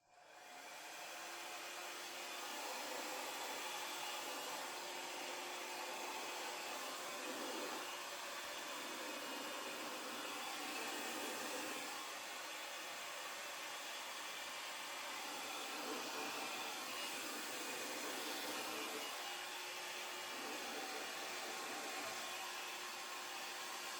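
A blower hisses continuously as it pushes acrylic paint across a pegboard in a Dutch pour, a steady airy rush held at an even level for the whole stretch, with no voices.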